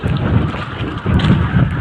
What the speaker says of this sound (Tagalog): tingnan yung hangin, malakas ang hangin